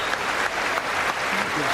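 Members of the US Congress give a standing ovation at a joint session, a dense, steady wash of many hands clapping loudly throughout.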